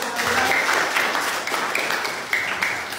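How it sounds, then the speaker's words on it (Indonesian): Applause from students in a classroom, a steady patter of many hands clapping together, moderately loud and close, carrying on evenly throughout. "Tepuk tangan."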